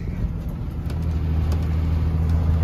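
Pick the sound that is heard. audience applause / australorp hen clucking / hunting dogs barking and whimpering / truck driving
truck driving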